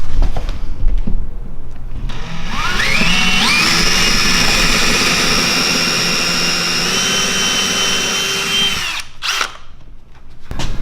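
Power drill boring pilot holes for leg screws while a Murphy rack is installed, a steady rising whine that holds for several seconds, then stops, with a brief second burst near the end.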